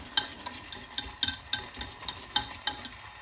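Spoon stirring milk with Bournvita powder in a cup or pot, a series of quick light clinks against the sides in an irregular rhythm, close and moderately quiet.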